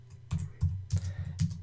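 Computer keyboard typing, five or six distinct keystroke clusters in an even rhythm, close and clear with no talk over it.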